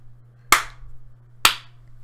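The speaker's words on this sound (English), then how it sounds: "clap at the beginning of them 3 times" Two sharp, isolated hand claps, close and loud, spaced about a second apart against a quiet room with a faint steady hum, used to sync footage from multiple cameras.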